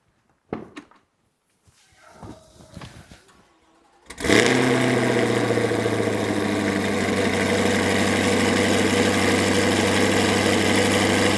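A few clicks and a cranking starter, then the naturally aspirated V8 of a Corvette C8 with a big cam on E85 bursts to life cold and settles into a loud, lumpy, choppy idle that continues steadily.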